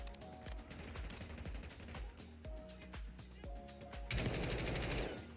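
Rapid gunfire in the shooter game Black Ops 6 rattles in steady, close bursts under in-game sounds, swelling into a louder blast near the end.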